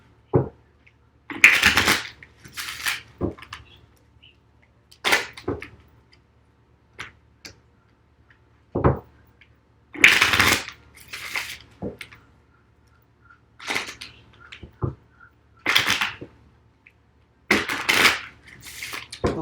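An Adinkra Ancestral Guidance oracle card deck being shuffled by hand, in repeated bursts of riffling and slapping card sounds separated by short pauses, close and clear with no talking.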